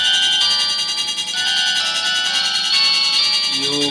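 A home security system's phone call rings out as a steady, loud electronic tone with a warbling melodic pattern, continuous and close throughout.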